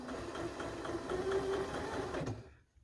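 A new sewing machine runs steadily for a couple of seconds while piecing a jelly roll race quilt, a close, even mechanical whir with a rapid stitching rhythm that stops abruptly at the end.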